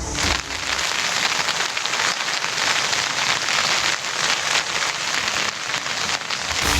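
Heavy rain pours in Rameswaram as Cyclone Ditwah approaches, a loud, dense roar of drops beating on surfaces close by, steady with slight surges and no talk.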